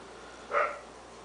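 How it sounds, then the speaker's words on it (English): A single short dog bark on a snowy blizzard day, faint and somewhat distant over a low steady hum, with no talking. "Hear that? My dog's barking."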